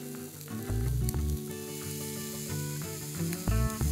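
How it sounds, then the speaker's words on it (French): A scallop and bacon skewer sizzles loudly and continuously on a hot plancha, a close, dense frying hiss with occasional crackles and light scraping, heard alone without speech. "On cuit la brochette sur toutes les faces pour donner du croustillant au lard."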